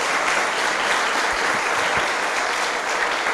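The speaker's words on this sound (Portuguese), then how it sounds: "eu queria convidar você a dar um forte aplauso pela vida dessa equipe tão preciosa." Steady, dense applause from a church audience at a prophets' school event, filling the whole stretch loud and close without letting up.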